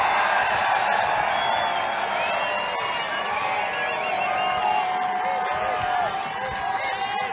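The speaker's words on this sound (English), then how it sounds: "this crowd is fired up" A large outdoor political rally crowd in Freeland, Michigan cheers continuously, with shouts and whoops rising over a steady roar of many voices, while a speaker talks over the noise through loudspeakers.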